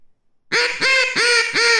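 A human voice imitating a duck's greeting call: four loud, nasal quacking honks in a quick, even series, close and alone after a short pause.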